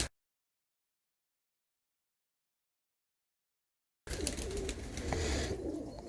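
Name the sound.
pigeons cooing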